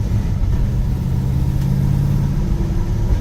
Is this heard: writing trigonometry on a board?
no